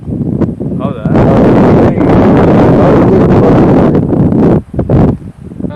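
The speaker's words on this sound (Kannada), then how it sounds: "ಗಾಳಿ ಈ ಕಡೆಯಿಂದ ಏನು ಬೀಸ್ತಾ ಇದೆಯೋ" Strong wind roars through the Bannerghatta forest and buffets the microphone in a loud, continuous rush, dipping briefly near the end before gusting again.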